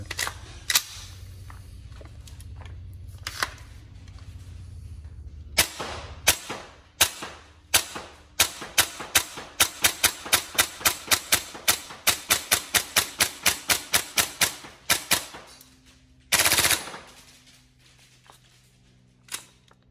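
Upgraded Tokyo Marui M4 MWS gas blowback airsoft rifle firing: scattered single shots, then a long run of rapid sharp cracking reports in steady rhythm, followed by one louder burst and a fading tail, close and loud.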